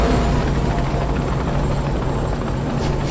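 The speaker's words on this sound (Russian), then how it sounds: "Он улетел на вертолёте." A helicopter in the video game Rogue Trooper thrums with a steady, dense rotor roar that holds loud and even throughout, with no voices over it.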